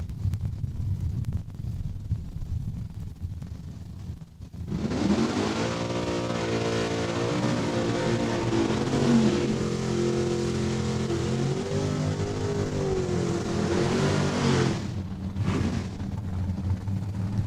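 Drag racing cars roar down the strip at Saskatchewan International Raceway in Saskatoon: after a low background rumble, a loud, sustained engine howl holds steady for about ten seconds before dropping away.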